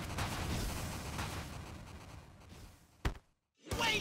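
An explosion in the video game TMNT: Shredder's Revenge, a short sharp burst cutting through busy game noise, followed by a brief silence before the sound picks back up.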